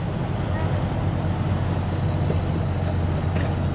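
A Scania 143 500 V8 truck slowing down, heard from the cab: a steady, close engine drone with a thin, sustained whistle riding above it throughout, and no pauses.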